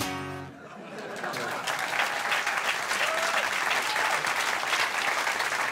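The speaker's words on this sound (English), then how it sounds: "He could just sit there and I think he deserves a round of applause." Comedy show audience bursting into sustained applause for comedian Christian Riley, a dense wash of clapping that rises after a brief voice at the start and holds steady and loud.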